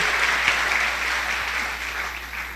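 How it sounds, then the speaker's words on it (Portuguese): A church congregation gives a round of applause in thanks to God, a steady, even wash of many hands clapping at moderate loudness from start to finish, fading slightly toward the end. "Dá uma salva de palmas, agradecer a Deus."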